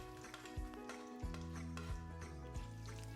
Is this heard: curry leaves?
yes